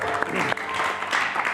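Applause from a live audience at an Indonesian comedy roast show, a steady dense clapping wash lasting the whole short moment, fairly loud and close.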